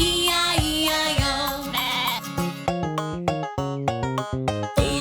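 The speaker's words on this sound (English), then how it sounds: "And on this farm he had a sheep" Sheep bleating amid a children's farm song tune, with several sustained wavering bleats running over a musical melody, loud and close.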